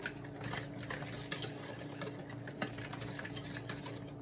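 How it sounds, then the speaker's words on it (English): A dill and lemon dressing being stirred, with soft rhythmic scraping and clinks of utensil against a bowl, close and fairly quiet, with no one talking. "So let's mix this dressing up."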